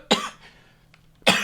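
A man's cough rings out twice, one sharp burst at the start and another near the end, loud and close, with a quiet gap between them and no talking.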